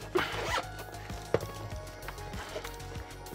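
A zipper on a Nintendo Switch carrying case packed with Joy-Cons is pulled closed in a few short, scratchy bursts, close and fairly quiet, with light handling noises between them.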